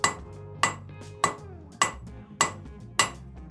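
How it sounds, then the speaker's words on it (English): Hammer blows on hot steel at an anvil while drawing out a taper in blacksmithing, six sharp ringing metallic strikes at a steady rhythm about every 0.6 seconds, close and clear. "Keeping your hammer nice and straight with the piece, striking at an angle towards the near edge of your the far edge of your anvil."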